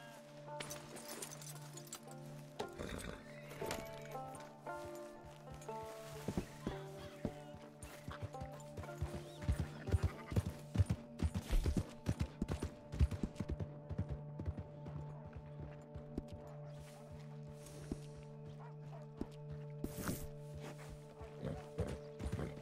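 Horse hooves clip-clop at a walking pace in Red Dead Redemption 2, with an irregular rhythm of hoof strikes over game music and ambient sound, at a moderate level, with occasional speech.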